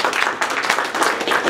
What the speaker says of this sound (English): Yes, we can clap there.